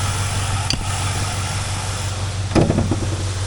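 A 2004 Pontiac GTO with a 5.7L LS1 V8 gives a steady low engine drone as it drives around a wrecking yard, with two brief clatters partway through. No one speaks.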